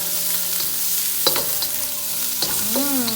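Gulf shrimp sizzle steadily in a hot pan for pad thai, a continuous frying hiss broken by a few sharp scrapes and clatters of a utensil stirring against the pan.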